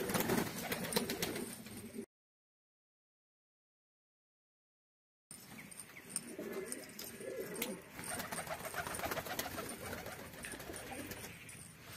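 Bazi pigeons cooing in a snowy coop, a steady low chorus of several birds nearby, broken by a gap of silence before the cooing resumes.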